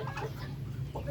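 Native chickens clucking in a Filipino backyard, a steady close flock murmur with a couple of brief louder clucks over a low hum.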